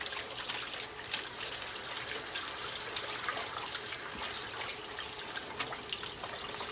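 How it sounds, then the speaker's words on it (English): Running tap water pours steadily into a sink while hands are washed during dumpling preparation, a continuous trickling and splashing that stays at an even level throughout, close by and without any talk. "let me wash my hands."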